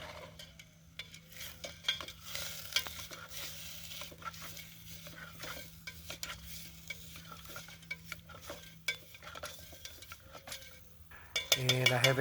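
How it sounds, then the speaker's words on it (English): UCO utility spork stirring boiling food in a Swedish mess kit, faint irregular scraping and clinking under a low bubbling simmer, ending with a louder sizzling scrape, no talk. "Stirring boiling food and a Swedish mess kit with it."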